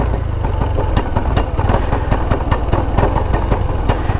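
Yamaha Nmax 2021 scooter engine droning loudly and steadily as the throttle is held while traction control keeps the wheel from spinning, with a close, even buzz and regular small pulses.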